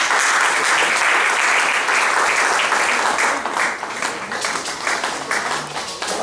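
A church congregation applauds, a dense, loud, sustained burst of many hands clapping that eases slightly toward the end.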